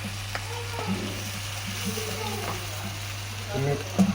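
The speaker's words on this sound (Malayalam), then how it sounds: "ഇനി അതൊന്ന് വറക്കാൻ വേണ്ടിയിട്ടാണ് ഇഞ്ചി ഇട്ട് വറക്കുക" Prawns fry with ginger in hot oil for a Kerala chemmeen idichuvara, sizzling steadily up close with occasional stirring clatter while a voice speaks over the cooking.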